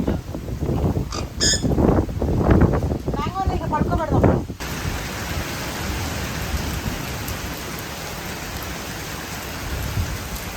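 Heavy rain pours down steadily, with a thick, even hiss of downpour. People talk over the rain during the first few seconds, then the downpour continues alone.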